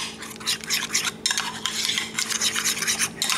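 A spoon stirs honey mustard and dill sauce together in a bowl, giving a steady run of soft scraping and clinking strokes close by, with a brief pause midway and no talking.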